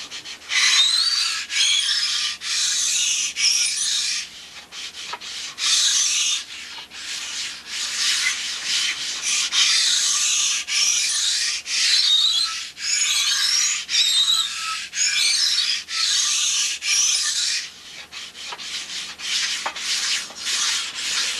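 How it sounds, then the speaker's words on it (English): Continuous rhythmic sanding strokes of a long sanding block on wooden ribs, a dry rasping scrape repeated back and forth close up, with small pauses between passes. "Now get out that nice long sanding block."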